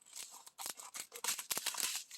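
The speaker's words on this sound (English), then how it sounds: "So what I'm going to do is going to cut one of these baggies." Close scissors snipping through a thin plastic baggie in a quick series of crisp cuts and rustles.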